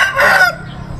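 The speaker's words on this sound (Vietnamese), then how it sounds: "Gà trọi." A fighting rooster at a market in Laos lets out a short, loud, close crow that trails off within about half a second, followed by faint background noise.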